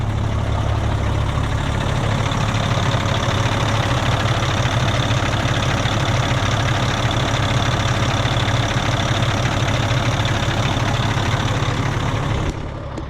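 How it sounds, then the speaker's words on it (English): A dump truck's Caterpillar engine idles loudly and steadily up close, a continuous heavy rumble with a faint knock, and no one speaks. "So now I'll let you listen to this Caterpillar motor."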